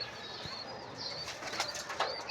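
Bombay pigeons on a rooftop, wings flapping in brief rustling bursts with a few soft bird calls, moderately close against a quiet outdoor background.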